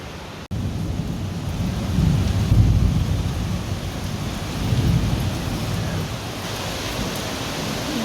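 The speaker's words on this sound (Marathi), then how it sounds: "पाऊस किती यायला लागले" Heavy rain pours steadily during a thunderstorm, a dense close hiss with deep rumbling thunder rolling in waves throughout, and no voices.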